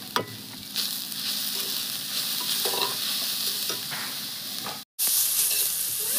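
Spices, turmeric, chilli powder and green chillies fry in a pan with a continuous close sizzle and stirring scrapes, cut by a brief silence near the end before the frying resumes.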